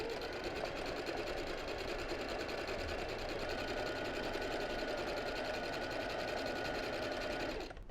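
A sewing machine runs continuously at a steady fast pace while doing zigzag freehand embroidery of rose petals, close and loud with no pauses, and it stops abruptly at the end.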